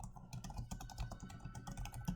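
Quiet, close keystrokes on a computer keyboard as answers are typed into worksheet boxes, a quick irregular patter of clicks with no talk.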